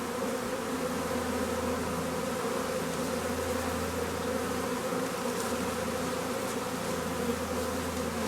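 A honeybee swarm buzzes densely and continuously in front of a hive, a close, steady, loud droning hum with no voices.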